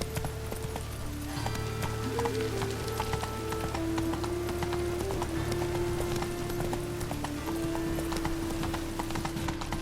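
A horse gallops in the Witcher 3 video game with steady, continuous clip-clop hoofbeats, overlaid by a sustained musical tone throughout.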